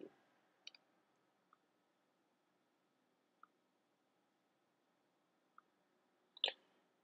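Faint, sparse mouse clicks, a handful of small isolated taps spaced irregularly over quiet room tone while working in MySQL Workbench.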